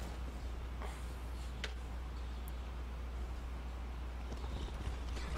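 Horse hooves clopping in Skyrim, a fairly steady gait under a bed of outdoor ambience, moderately near with no talk.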